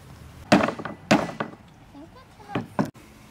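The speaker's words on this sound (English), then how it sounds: "Now we'll hammer the other two sides to the base." A few sharp wooden knocks from hammer strikes driving nails into wood land irregularly, close by, with a faint voice murmuring in between.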